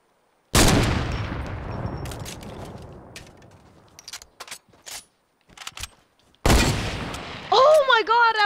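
A heavy sniper rifle in a video game fires two loud, sharp shots several seconds apart, each followed by a long decaying echo, with clicks and mechanical clatter between them and a warbling game effect at the end.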